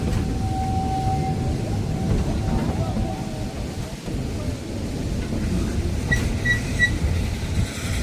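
The Roaring Camp redwood steam train rumbles along its tracks in a continuous low roar, with a faint tonal squeal early on and light metallic pings near the end.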